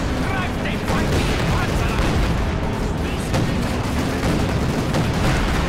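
Dense, loud battlefield noise in Company of Heroes 2 with repeated gunfire and booming blasts rolling together, continuous throughout.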